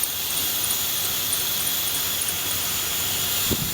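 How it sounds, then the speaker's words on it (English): A Ford Explorer engine runs with the upper intake removed while WD-40 is sprayed into the intake, giving a loud, steady roar with a high hissing whine and a slight shift in tone near the end. No one speaks. "You hear the change in the pitch in the engine?"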